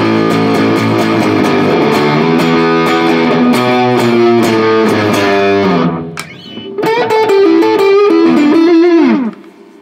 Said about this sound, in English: It's a nice little fuzz pedal, one knob,